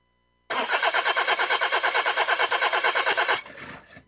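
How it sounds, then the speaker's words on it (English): A car engine cranks repeatedly without catching, a steady rapid churning rhythm for about three seconds, loud and close, then stopping and leaving a fainter fading tail. "Car won't start?"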